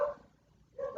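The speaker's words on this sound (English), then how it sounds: "the dogs all decided the dogs are having a fit" Dogs bark in two short bursts, one at the start and one at the end with a quiet gap between, fairly faint and somewhat distant.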